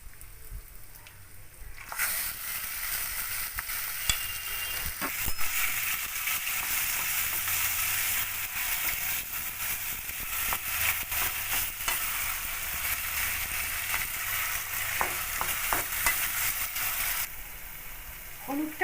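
Taro leaves hit a wok of fried ginger and start a loud, steady sizzle that lasts most of the stretch, with occasional stirring scrapes and clicks, then drop away near the end.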